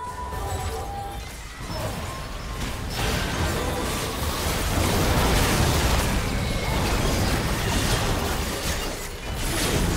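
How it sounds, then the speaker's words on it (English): A turret is destroyed in League of Legends during a Cho'Gath versus Olaf top-lane match, with a sustained crumbling blast and shattering crash that swells midway and rumbles on loudly throughout, with no talk over it. "His turret has been destroyed."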